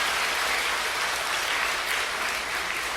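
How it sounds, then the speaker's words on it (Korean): A church congregation gives a sustained round of applause during a Sunday revival service, a loud, even wall of clapping that holds steady throughout with no voices over it. "또 이어서 온유를 살려주시고 오늘 은혜 주신 하나님께 다시 한번 영광의 박수 올려드리겠습니다."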